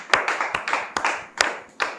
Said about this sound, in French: Merci donc de recevoir sous vos applaudissements notre invité de ce soir.